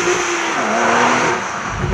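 A turbocharged Porsche 911 Carrera of the 991.2 generation revs steadily and loudly, its engine note sustained and rising slightly as it pulls toward the red line, with no talk over it.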